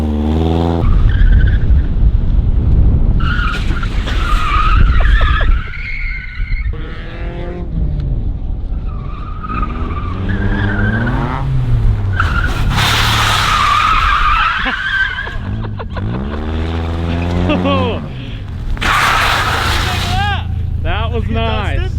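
A 1.9-litre BMW Z3 drifts on a winter lot, its tires squealing in long wavering screeches over a steady engine drone, with people talking and laughing throughout.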